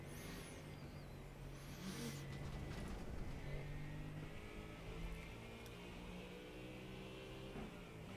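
A race car engine in a sim racing lap at Motegi or Suzuka, droning and shifting pitch through corners at moderate, steady loudness with continuous road and tire noise.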